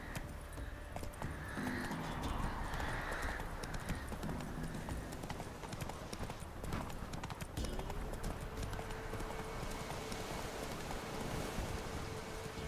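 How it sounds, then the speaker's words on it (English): Horse hooves clip-clop in The Witcher 3, a steady run of close hoofbeats with jangling tack and game ambience, loud and continuous. "Ah, ya vi, los caballos."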